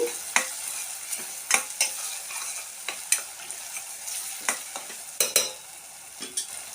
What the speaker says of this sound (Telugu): ఇప్పుడు ఇది కూడా పచ్చివాసన పోయేంత వరకు చక్కగా వేయించేసుకోండి